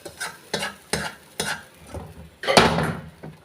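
Curry leaves and dried red chillies hit hot oil for tempering a curry, giving short bursts of sizzle and stirring scrapes in a rhythmic series, then a louder, longer crackling flare near the end.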